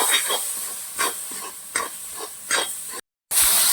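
Beef roast masala with gravy added, frying in a pan for a green-peppercorn beef roast: a close hissing sizzle broken by several stirring scrapes, briefly cutting out near the end.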